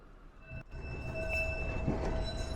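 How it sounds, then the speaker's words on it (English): A tram rumbles along steadily at close range at Blackpool's Tram Town depot, with a low continuous rolling noise and faint high metallic tones ringing over it. "they're just bringing out the tram now for this fish and chip tour here"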